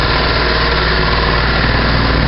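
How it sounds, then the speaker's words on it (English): A steady, loud mechanical drone of an air compressor running continuously, a dense engine-like hum with no pauses, heard up close in a shop where rusty steel is being cleaned with muriatic acid. "that would be the air compressor"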